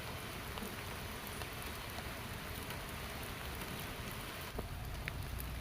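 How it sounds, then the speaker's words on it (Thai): Steady downpour on the Ping River in Thailand while fishing, a thick unbroken wash of rainfall with occasional louder drop patters near the end, no speech. "วันนี้ฝนก็ตกไม่หยุดเลยนะครับ"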